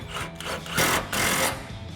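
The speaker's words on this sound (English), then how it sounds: "Grab our impact extension and 18mm socket and go ahead and tighten that down." An impact wrench with an extension and 18mm socket drives a support bar bolt on a Silverado 1500 grille guard install, giving two loud, close rattling bursts amid quieter handling noise.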